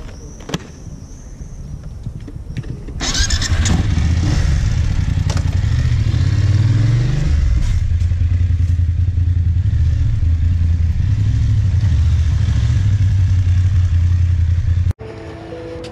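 A BMW F850GS motorcycle is quiet at first, then its engine fires up and runs loud and steady while riding off, with a deep throb and shifting revs for about twelve seconds before cutting off abruptly.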